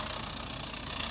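Steady engine drone of the GE Galaxy Express train locomotive in the Trainz video game on Android, a continuous idling rumble heard alone at moderate level.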